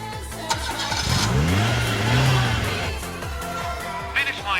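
Racing car engines rev hard on a mountain pass in the Initial D anime, one car roaring up and sweeping past close with a rising and falling whine, then fading as another engine note follows.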